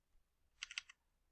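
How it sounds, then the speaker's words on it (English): Quick burst of about five keystrokes on a computer keyboard, crisp and close, clicking in a short rhythmic run within a quiet room. "let's go on over to Google, and let's go and type in Accesspress"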